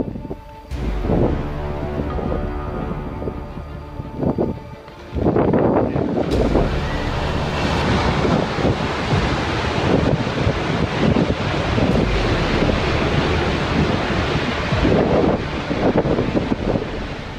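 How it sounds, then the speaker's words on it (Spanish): Loud, roaring wind buffets the microphone, then a heavy rumbling crash of glacier ice grinding and tumbling against rocks in the French Alps takes over and continues close and powerful. "el ruido del viento y del hielo al chocar contra las rocas le dan un toque épico"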